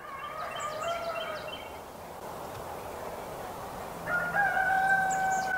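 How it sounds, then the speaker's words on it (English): Outdoor springtime birdsong with a rooster crowing, long drawn-out calls rising over a steady background of chirping and ambient noise. "All these birds are happy."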